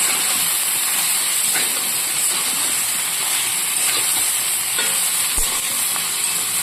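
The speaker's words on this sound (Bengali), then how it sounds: "এটাকে আমি ভালো করে কষিয়ে নেব" Prawns stir-fry with cumin masala in a pan, giving a loud, steady sizzling hiss throughout, with faint scrapes of stirring beneath it.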